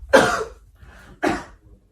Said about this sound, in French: Je viens de tousser, décale-toi vite.